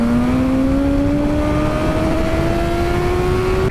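A 2019 BMW S1000RR sport motorcycle engine revs steadily upward, its tone climbing smoothly and continuously, loud and close with no talk over it.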